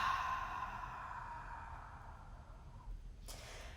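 A long, steady breath exhaled out through the mouth, breathy and close, fading over about three seconds before a short soft click.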